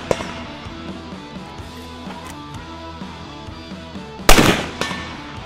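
A gunshot fired through a GSL Multi-Cal titanium and Inconel suppressor at a range: a single sharp, loud report near the end with a short tail, following several seconds of steady music.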